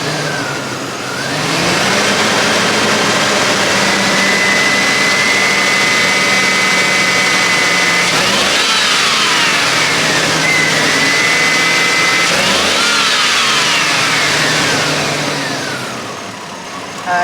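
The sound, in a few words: car engine revving with a misfire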